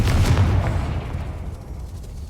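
A Confringo blasting spell goes off in Hogwarts Legacy, a loud booming burst up front that rolls into a decaying low rumble over about two seconds, with no talking.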